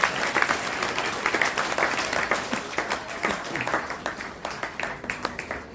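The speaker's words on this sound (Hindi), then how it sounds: "जोरदार तालियां" Audience applause for student prize winners at a certificate ceremony, lively dense clapping that swells and then thins into scattered individual claps toward the end.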